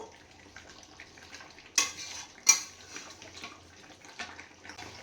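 Chicken kosha being stir-fried in a pan, with quiet sizzling under two sharp metallic clanks of a spatula against the pan and lighter scraping afterward.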